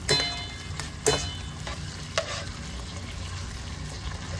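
Vegan sausage and onions frying with lemon in a pan, a steady sizzle and crackle throughout with a few sharper spits and stirring clatters, close and moderately loud, no voices.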